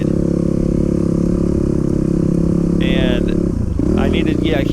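A heavy dirt bike's engine chugs at low revs, a steady dense drone that dips and bogs near the end, with talk over it.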